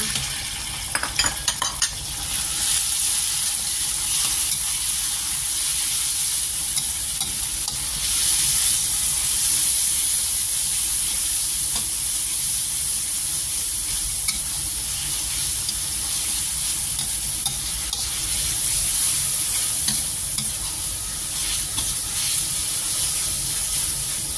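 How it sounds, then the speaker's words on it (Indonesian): Chicken sizzles and fries in a yellowed spice paste for a stir-fry of tempeh, squid and long beans, a loud, steady hiss that keeps up without pause under occasional stirring. "Dan sudah menguning bumbunya, masukkan ayamnya."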